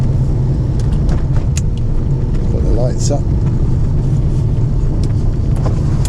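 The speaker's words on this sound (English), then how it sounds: "But I never get bored of driving this car." Steady, loud interior road rumble and engine drone from a Porsche 993 being driven, constant throughout, with someone speaking briefly over it.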